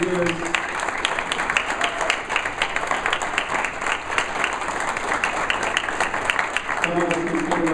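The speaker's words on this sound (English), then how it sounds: "another round of applause for everyone who came out" Audience applause for the speakers at the close of a talk: a dense, steady wash of many hands clapping fills the whole stretch, loud and continuous, with a few voices mixed in near the end.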